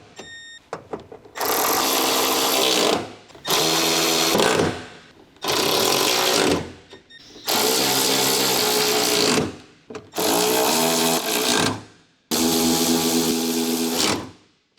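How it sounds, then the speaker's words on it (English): Small electric impact wrench with a 10mm long socket tightening window regulator retaining bolts inside the left front door of a 1996 Honda Civic EK 1.6L, six loud, close hammering bursts, each about a second or two long, split by short silent gaps. "Using the small 10mm long socket with the small electric impact wrench, tighten all the window regulator retaining bolts"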